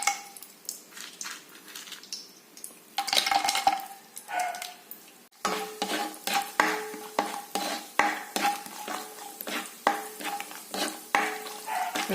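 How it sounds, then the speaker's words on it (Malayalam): Cashews are stirred and frying in hot ghee in a pan as a biryani is prepared, with a steady sizzle broken by repeated scrapes and clinks of a spoon against the metal. "കശുവണ്ടി വറുക്കണം."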